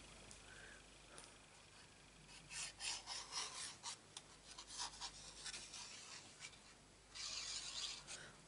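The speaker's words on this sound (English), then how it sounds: "I've decided I don't like that scraping noise." Rasping file scrapes across a handmade Christmas craft in short, uneven bursts, close and fairly quiet, with a longer scraping stroke near the end and no talking.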